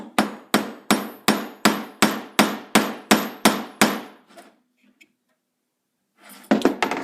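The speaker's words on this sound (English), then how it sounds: "just hammer one of the nails in here" A hammer strikes a nail about a dozen times in an even, rapid rhythm, each hit a sharp ringing clang, then a pause and a few more quick blows.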